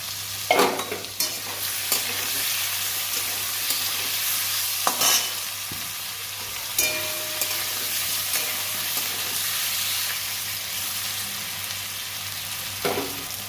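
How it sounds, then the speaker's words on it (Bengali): Raw banana, papaya and potato sizzle steadily in a hot pan, with occasional scraping taps of a spatula stirring them; no voices. "মাছ সরি, কাঁচা কলা, পেঁপে আর আলু একটু কষে নেব।"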